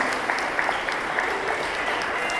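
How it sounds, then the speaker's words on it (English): A crowd applauds steadily, a dense patter of clapping hands that holds at an even level throughout. "Let's give Ellen a great big round of applause as well tonight."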